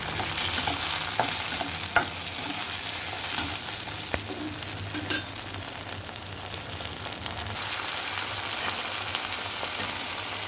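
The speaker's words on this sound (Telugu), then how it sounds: "ఇక టమాటాలు వేసుకుంటున్నాను" Chopped tomatoes and onions fry in a pan for a vegetable curry, with a steady sizzle and occasional stirring scrapes and taps, close and continuous.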